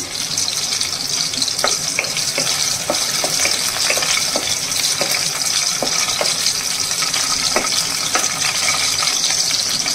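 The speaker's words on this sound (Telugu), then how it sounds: "చూసారు కదా పచ్చిమిరపకాయలు అయితే వేగుతున్నాయి" Green chillies fry in oil in a pan for a ridge gourd (nethi beerakaya) chutney. The sizzle is loud, close and continuous, crackling with frequent sharp pops and no voices.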